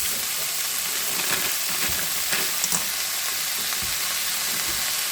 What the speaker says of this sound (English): So I'll be adding our seafood.